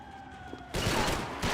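Gunfire in Max Payne 3 breaks out abruptly after a quieter stretch, a dense loud burst of shots continuing to the end, with another hit near the close.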